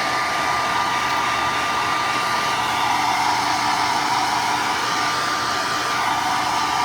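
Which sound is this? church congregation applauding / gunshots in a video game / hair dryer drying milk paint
hair dryer drying milk paint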